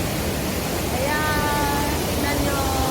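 Water flowing at the Cheonggyecheon Stream wishing well in Seoul makes a loud, constant broadband rush, with faint voices and a brief thin tone drifting over it.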